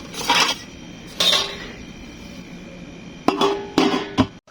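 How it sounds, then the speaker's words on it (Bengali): A metal lid is set onto a pot of biryani, giving a few short clanking, scraping bursts of metal on metal with quiet gaps between them and no talking. "এখন আমি ঢাকনা দিয়ে আরও 10 মিনিট রেখে দেবো।"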